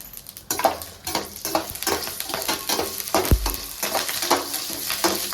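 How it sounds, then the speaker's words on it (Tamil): Cumin, mustard seeds, curry leaves, green chili and garlic sizzle in hot oil, with steady crackling and frying hiss, a spoon stirring and scraping the pan at intervals, and one heavy clunk partway through. "எண்ணெய் ரெண்டு கரண்டி சேர்த்துட்டு இருக்கேன் சீரகம் கடுகு கருவேப்பிலை பச்சை மிளகா பூண்டு"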